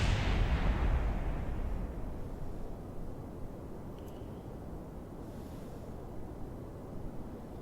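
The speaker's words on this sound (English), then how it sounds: "solid rocket booster separation" Solid rocket booster separation during a spaceflight game launch, a loud broadband rumbling burst at the start that eases into a steady roaring wash of engine and wind noise, alone.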